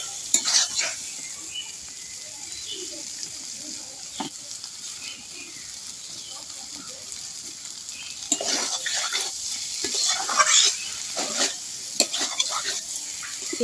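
Green tomato added to potatoes frying in a pan, a continuous moderate sizzle with repeated scraping stirs that grow louder and busier in the second half, no talk.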